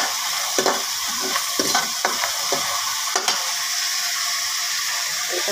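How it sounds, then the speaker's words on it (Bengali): Ground onion, ginger, garlic and dried chili paste frying in a pan over a clay stove, a steady close sizzle broken by repeated scraping stirs of a spoon. "আর এখানে আমার পেঁয়াজ বাটা, আদা বাটা, রসুন বাটা আর শুকনো মরিচ বাটা এগুলো একটু ভেজে নিচ্ছি।"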